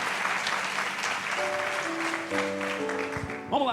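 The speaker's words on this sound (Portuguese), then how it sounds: "Pode dar um aplauso para Jesus, igreja?" A church congregation claps together during a worship service, a steady wash of applause with held musical tones rising underneath before the sermon resumes.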